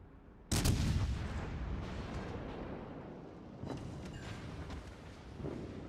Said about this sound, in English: Get the Iowa to shoot one more time